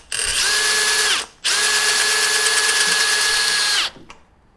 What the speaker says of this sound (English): maybe turn the drill speed down a little bit.